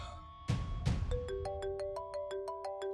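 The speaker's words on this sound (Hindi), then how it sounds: "का फोन आ रहा है।" A phone ringtone sounds for an incoming call, a melodic electronic tune with a rapid series of evenly spaced bright beeps that follows two sharp knocks, moderately loud with no talk.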